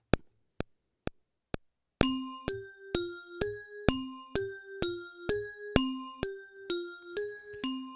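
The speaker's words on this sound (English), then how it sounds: "just a simple bell is just like that." A simple bell sample played on an MPC Live 3: four sharp clicks, then a steady run of ringing bell tones struck in an even rhythm, each note decaying briefly before the next, clear and alone.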